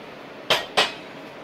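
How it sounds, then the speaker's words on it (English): Two quick metallic clanks, a lid set down onto a pot of chicken in boiling water, close and sharp against a quiet background. "I'm gonna cover my pot up."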